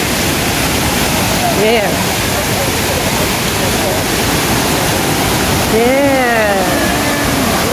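A wide waterfall roars with a steady, loud, dense rush that fills the whole scene without a break, and a few short voices speak over it.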